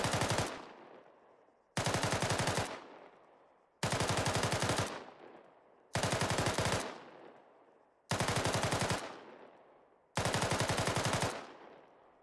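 A SAW light machine gun fires at its cyclic rate within 50 meters, six loud sustained bursts of rapid automatic fire, each around a second long, separated by short pauses with echoing decay between them.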